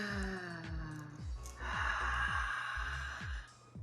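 A group breathwork session takes a long collective inhale, with many voices drawing breath and sighing together in a soft, sustained rush, while rhythmic low thumps pulse steadily underneath.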